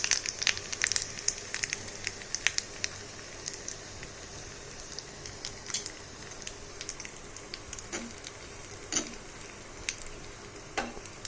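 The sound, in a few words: cumin and asafoetida tempering frying in oil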